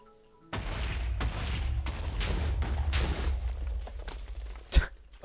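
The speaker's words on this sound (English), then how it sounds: "So pretty. So many pretty explosions." TNT explodes in the video game Minecraft, a dense run of booming blasts and rumbling thuds that fades, with one sharp crack near the end.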